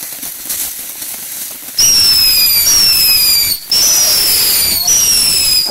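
Panda Killer Bee fireworks going off outdoors: a series of loud, close whistling bursts in quick succession, each rising into a sharp screech, with a brief gap between volleys.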